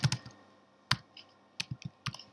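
Several sharp keystrokes on a computer keyboard, typed in short irregular clusters close by, quiet apart from the clicks.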